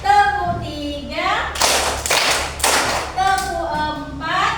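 A classroom group claps out counted rhythmic patterns, bursts of several quick, loud hand claps between a teacher's spoken counting.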